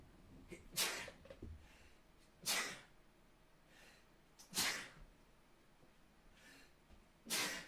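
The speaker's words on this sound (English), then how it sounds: "Ooh, a quad sneeze." Four separate sneezes, evenly spaced about two seconds apart, fairly faint against a quiet background, with no talking.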